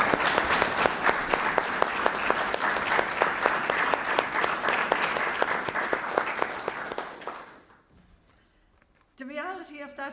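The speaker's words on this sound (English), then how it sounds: "if people will put their hands together, please, and a round of applause" Audience applause at a final keynote session of a conference, a dense round of clapping from a full room lasting about seven seconds before fading, followed by a brief pause and then a speaking voice.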